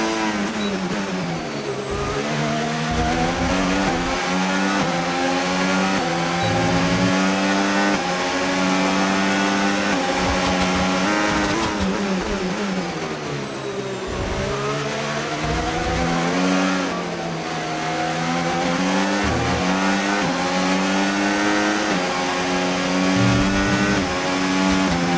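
Formula 1 race car engines in the F1 25 racing game, loud high-pitched howling that rises and falls repeatedly through gear changes and acceleration, continuous and close with no speech.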